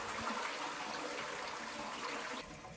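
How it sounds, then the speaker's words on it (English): Toilet flushing as the cistern empties, a steady rushing wash of water throughout that drops slightly near the end. "flush the toilet so that the cistern is empty"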